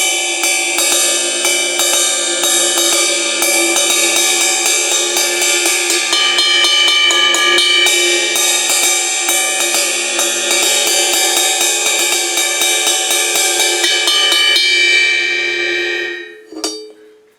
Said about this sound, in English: This is the most basic entry-level Pearl cymbal